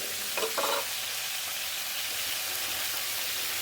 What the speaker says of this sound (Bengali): এখন আমি পেঁয়াজগুলো দিয়ে নিই এই মধ্যে জায়গা করে একটু পেঁয়াজগুলো দিয়ে দেবো